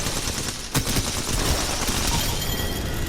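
Sustained rapid gunfire in a shooter video game as a player takes out an enemy squad, a dense continuous barrage of shots with one sharper burst early on, loud and close throughout.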